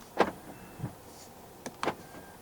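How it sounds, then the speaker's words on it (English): Power-folding side mirrors on a 2025 BYD Seal Extended Range Premium retracting inward, heard as two short motor whirs about a second and a half apart, close and fairly quiet with no talk. "To fold the side mirrors in from the inside, press this button right here"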